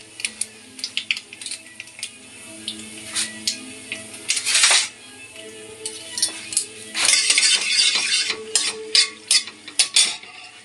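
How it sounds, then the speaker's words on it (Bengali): Nigella seeds and a dried chilli temper in hot oil, sizzling under clinking and scraping of a spoon against the pan in irregular bursts, with louder spluttering flares partway through, close and without talk. "এই দেখো 2টো কালো জিরে আর একটা শুকনো লঙ্কা ফোড়ন দিয়ে দিলাম।"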